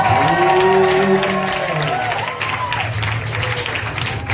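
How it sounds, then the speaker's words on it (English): Church congregation at a Sunday service clapping and cheering together, a steady broad wash of applause with voices and singing tones mixed in throughout. "I want you to celebrate Jesus by clapping your hands."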